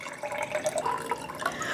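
Water poured into a cup for brewing tea, 220 grams measured out, a steady trickling fill heard close by with no talking.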